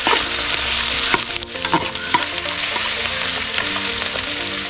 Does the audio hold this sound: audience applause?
no